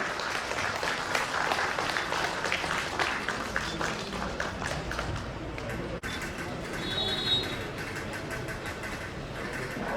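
Sustained applause from a sizable crowd, steady and fairly loud throughout, with a faint high chirp partway through.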